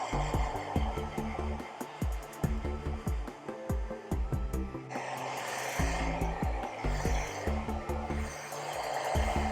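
A hair dryer blows steadily on freshly painted Battletech miniatures, a continuous whooshing hum with clicks and small knocks of handling underneath.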